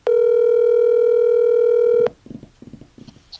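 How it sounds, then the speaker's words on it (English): A telephone gives a loud, steady dial tone for about two seconds, then cuts off into a few short, quieter tones as a call is placed. "I just gotta make a quick phone call here."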